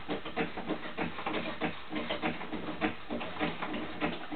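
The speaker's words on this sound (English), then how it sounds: "Then we just gotta crank it." A homemade hydraulic motorcycle lift built from scrap is cranked up, giving a rhythmic series of clicking, ratcheting pumps repeating steadily at close range.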